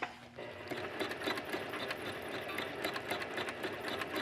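A sewing machine runs steadily in free-motion embroidery on denim jeans held in a hoop, its needle hammering in a fast continuous drone close by for several seconds.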